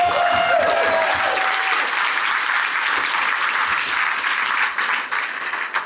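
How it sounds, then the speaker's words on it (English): A large audience applauds steadily for several seconds, a dense and loud wash of clapping with no break, as a crowd cheers someone on stage. "Can we please give him a round of applause in his entire team?"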